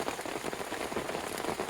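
Steady rain falls at night on and around a backpacking tent in San Mateo Canyon, a dense, even patter of drops close by with no voices.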